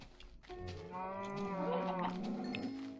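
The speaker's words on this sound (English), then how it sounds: "Let's kill one of these cows." A single drawn-out Minecraft cow moo, close and clear, rising and falling over a couple of seconds with no talking.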